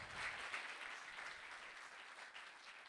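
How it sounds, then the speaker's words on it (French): A church congregation claps during a celebration service. The steady, dense applause sounds fairly distant and soft and holds evenly for about three seconds. "Ouais, on peut applaudir."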